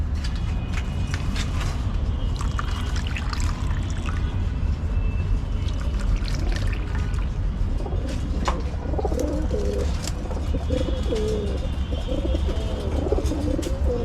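Pigeons in a loft coo repeatedly with low, throaty calls close by, along with fluttering and other bird noises over a constant hum.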